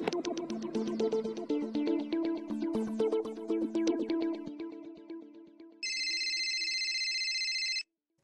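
A telephone rings in a Marathi TV serial scene: a steady electronic ringtone sounds alone for about two seconds near the end, following a stretch of background music, with no voices.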